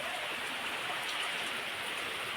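Rain falls steadily on an outdoor cooking area with a covered stove and soaked firewood, producing a constant close hiss of drops that never lets up, with no talking.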